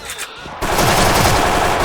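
Machine gun fire from the Special Force shooter, a MAD TAR-21 on the Venezia map: a quiet stretch gives way to a loud, sustained, unbroken burst of rapid shots that runs to the end.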